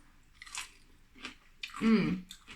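Close bites and chewing of crunchy cucumber marinated in gherkin brine, a few soft crisp crunches followed by a louder, wetter bite, with no talking.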